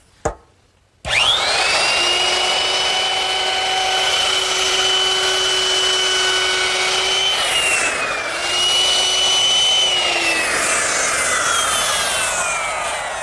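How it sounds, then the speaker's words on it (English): A router fitted with a 1/4 inch rounding over bit eases the back edges of a wooden mirror frame, starting with a click, spinning up to a loud steady whine, then shifting pitch as it cuts along the wood. "With another router bit change to a 1/4 inch rounding over bit, I can now ease the back edges of the frame"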